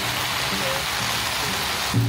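Heavy rain from a storm pours at a campsite in Japan as a dense, steady hiss, close and loud for two seconds with no talk.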